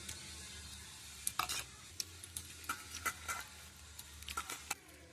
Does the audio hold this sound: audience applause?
no